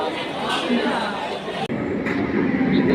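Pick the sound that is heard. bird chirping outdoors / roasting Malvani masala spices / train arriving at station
train arriving at station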